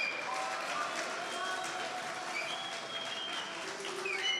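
An audience at a conference event in Marseille applauds steadily, a dense, even wash of clapping heard from within the room, fairly faint, with a few voices mixed in.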